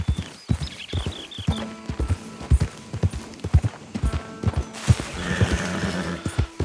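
Horse hooves clip-clop in a steady, close rhythm in the video game Red Dead Redemption 2, joined by a whinny near the start and louder neighing later.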